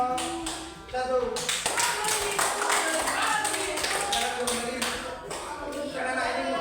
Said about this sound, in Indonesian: Berapa yang tepuk tangan untuk kelompok 1?